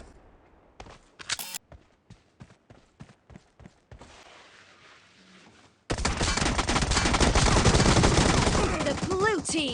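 Pistol shots crack in a BGMI team deathmatch, first as a series of sharp single reports spaced about half a second apart, then buried under a dense, loud stretch of game noise and shouting.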